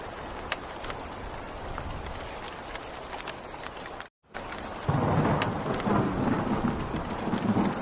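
Heavy rain pours down steadily, with rumbling thunder beneath and a louder surge of downpour later, continuous apart from one brief gap.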